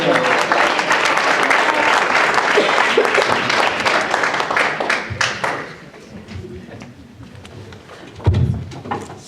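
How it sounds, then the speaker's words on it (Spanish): A church congregation breaks into lively applause for the Lord, loud dense clapping that tapers off over several seconds, followed by a few scattered claps and a thump. "¿Por qué no un aplauso al Señor?"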